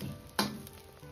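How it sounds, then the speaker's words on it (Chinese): A beaten egg frying in a pan over medium heat, just after being flipped, gives a faint, steady sizzle with one brief louder crackle partway through. "再翻面煎另一面"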